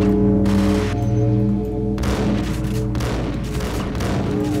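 Rapid gunfire rings out in the Max Payne video game as enemies are shot in the legs, loud repeated bursts with heavy booming bass and a continuous droning score underneath.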